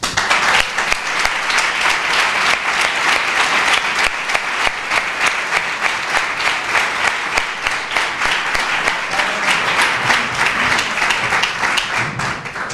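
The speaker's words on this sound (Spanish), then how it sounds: "vamos a darle un fuerte aplauso." Sustained, steady audience applause at a book presentation in a cultural center, a full crowd clapping evenly and loudly throughout without pause.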